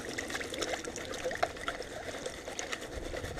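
Water sloshes and trickles in a gold pan as it is tilted and worked during panning, a soft continuous wash of liquid heard alone at low volume.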